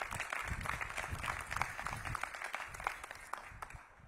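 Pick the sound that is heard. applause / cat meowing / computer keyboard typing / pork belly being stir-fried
applause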